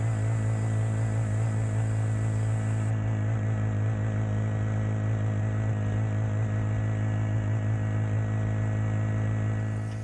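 A 49cc four-stroke bike engine held at high revs during a top-end speed run, a steady loud drone with a strong low hum and engine pulse running continuously.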